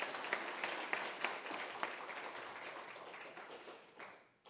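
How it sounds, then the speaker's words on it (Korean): A church congregation claps during a Korean afternoon praise service, a soft, fairly distant patter of hands that gradually tapers off toward the end. "우리 박수 한 번만 더 해줘요"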